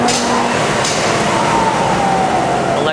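A Heesemann LSM-8-S calibrating and finishing sander runs up to speed, a loud, dense industrial roar with a faint rising whine across the whole stretch.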